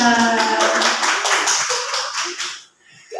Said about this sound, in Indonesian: Tepuk tangan buat Butari dan Bu Ica.